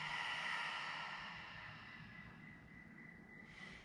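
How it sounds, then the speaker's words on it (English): One long, deep exhaled breath during a hatha yoga session, a soft breathy rush that fades gradually over a few seconds, close and quiet with no talking. "Deep breath out."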